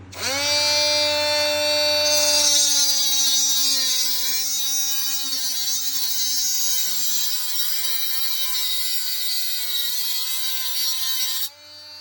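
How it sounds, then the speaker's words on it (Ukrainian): A mini cordless angle grinder whines at a high, steady pitch while cutting a thin metal tube about one millimetre thick, its tone shifting slightly under load, then stopping abruptly. "Маю отаку железяку міліметрової товщини таку трубочку. Давайте її попробуємо перепиляти."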